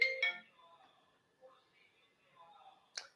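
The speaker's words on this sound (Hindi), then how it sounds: "फोन तो आना ही है ना बेटा क्लास में" A mobile phone ringtone goes off in a classroom, with short bright bursts at the start and again near the end and quiet gaps between them.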